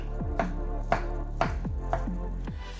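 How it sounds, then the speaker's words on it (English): A knife cuts foraged lobster mushrooms into thin slices on a board, four evenly spaced crisp chops followed by a fifth, close and clear over a low hum. "we cut them up into thin slices"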